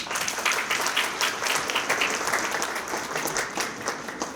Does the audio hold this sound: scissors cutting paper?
no